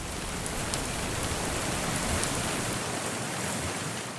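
A rain sound effect opens a weather report segment: steady, dense hiss of heavy rainfall on a surface, loud and even throughout, alone with no talk.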